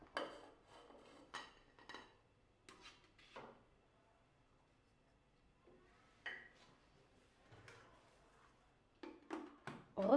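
Cooked rice being put back into the bowl of a Compact Cook Elite cooker, a sparse run of faint clinks, scrapes and knocks of utensil against bowl, scattered with quiet pauses in between.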